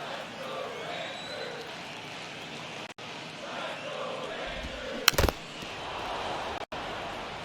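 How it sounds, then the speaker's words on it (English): Steady crowd murmur and rising cheer from a baseball stadium in MLB The Show 23, Atlanta Braves at Texas Rangers, a broad continuous roar with a brief sharp crack midway. "You can see the crowd. They're starting to get into it a little bit more"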